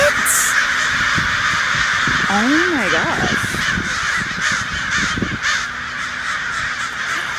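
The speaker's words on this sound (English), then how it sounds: "These crows. Yo, this is wild. It's so loud." Loud crows cawing repeatedly nearby, harsh calls overlapping across the whole stretch, with a person briefly exclaiming over them.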